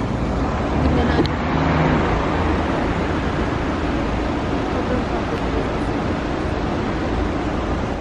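Heavy road traffic in a congested area near the Trojan Horse in Turkey forms a dense, constant roar of engines and road noise, with a brief sharper sound early on and no clear speech.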